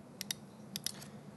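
Computer keyboard keys clicking sharply, two quick pairs of close, crisp presses followed by a fainter tap, over a quiet room hum.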